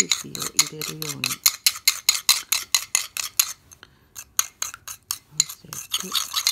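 A herb salad dressing of olive oil, Himalayan salt and five herbs is stirred briskly in a bowl, giving a quick, steady run of close, sharp scraping strokes with a short pause midway, while a voice speaks briefly at the start and near the end.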